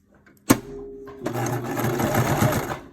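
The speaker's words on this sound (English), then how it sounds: "we're just going to sew a seam right down through here to reinforce that" A sewing machine stitches a reinforcing seam across the pleats of a homemade fabric face mask, starting with a sharp clunk and then a steady, close mechanical whir that runs for about two seconds.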